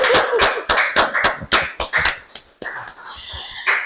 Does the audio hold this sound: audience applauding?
yes